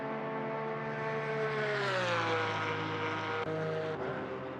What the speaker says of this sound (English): Hear that Porsche roar through the straight.